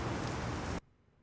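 Steady broadband hiss of rain in the Euro Truck Simulator 2 trucking game, loud and even for under a second before cutting off abruptly to near silence.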